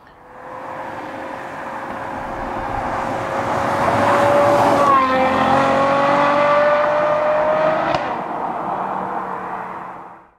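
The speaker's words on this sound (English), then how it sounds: "when you want it to make noise," A Ferrari GTC4 Lusso engine revs loudly up to a sustained high-pitched wail, then drops back and rises again. The sound is close and alone, fading toward the end.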